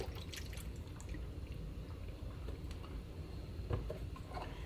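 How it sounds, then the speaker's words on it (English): Beef broth is poured into a pot of venison stew, a faint liquid splashing and gurgling with a few drip-like plinks, fairly close and continuous, with no talking. "So I'm going to fill this up maybe about halfway with the beef broth."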